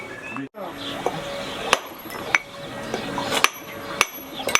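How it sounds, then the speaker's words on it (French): Chisel strikes on stone during a stone carving demonstration, with sharp hammer taps sounding at irregular intervals, several close together, over a low background and occasional voices. "Pour vous donner une démo de taille avec le ciseau."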